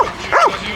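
A single short bark from a search and rescue dog at a French fire station, close and fairly loud, with a quick rising-and-falling yip shape.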